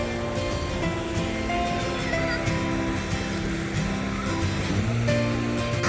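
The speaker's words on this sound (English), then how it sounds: "this beautiful cascading waterfall at the Lingering Clouds Peak" A cascading waterfall in a Chinese garden rushes in a loud, steady broadband roar that fills the scene, with faint murmurs of people in the background.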